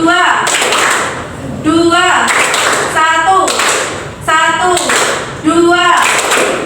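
A class of pupils clapping hands together on command, several rhythmic bursts of claps alternating with a teacher's spoken counting, loud and close.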